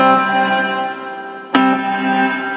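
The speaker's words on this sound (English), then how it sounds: "Tons of reverb there." A sustained guitar chord rings out through a Quilter amplifier drenched in heavy reverb, with a brief pluck midway that blooms into a long, washy tail.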